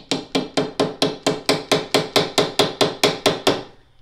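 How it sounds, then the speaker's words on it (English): A hammer's peen strikes a brass pin on an anvil in a steady run of about fourteen evenly spaced, ringing metallic blows, close and crisp, with each strike decaying quickly and no speech. "I'm also using the peen side of the hammer to make the head of this brass pin widen."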